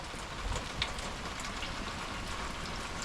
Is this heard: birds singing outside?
no